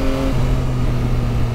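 A 2023 Yamaha Tracer 9 GT Plus sport-touring motorcycle engine pulls hard under acceleration, a loud, continuous engine drone that shifts in pitch as it climbs.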